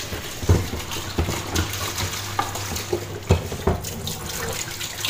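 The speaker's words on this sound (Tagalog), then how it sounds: "So, kailangan nating itapon yung tubig nito." Water from a full washing machine tub is poured out, a steady splashing, gurgling flow with irregular louder sloshes, fairly close and continuous with no talking.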